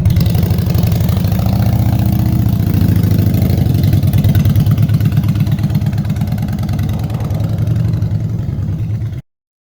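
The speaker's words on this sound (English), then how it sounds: "He even entrusted me to take his Harley for a spin." A Harley motorcycle engine runs steadily and loudly close by, with an even, throbbing low rumble that holds for several seconds before cutting off abruptly, with no voices.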